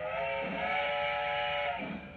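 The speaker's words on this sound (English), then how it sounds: "There's the whistle again." A model steam whistle blows in one sustained, steady tone for about two seconds, fairly loud, with a soft hiss of steam beneath it.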